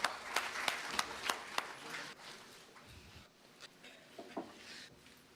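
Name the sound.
audience applause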